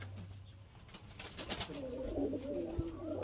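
A Giribaz fancy pigeon coos softly in a few low murmuring calls toward the end, over faint background noise and distant clatter.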